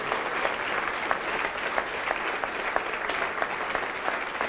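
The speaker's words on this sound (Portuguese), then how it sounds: "E vamos aplaudir mais ao Senhor Jesus" Congregation applauding during a church service, a continuous close patter of many people clapping with no voices over it.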